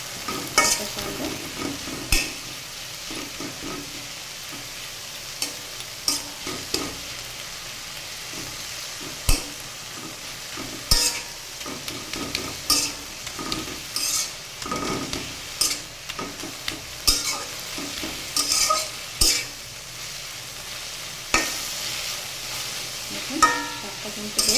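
Jute leaves (pat shak) fry in oil in a pan while being stirred, giving a steady close sizzle broken by repeated sharp scraping and clacking strokes from the spoon, with no talk.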